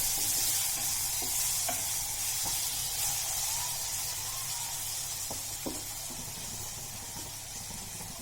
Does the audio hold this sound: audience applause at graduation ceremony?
no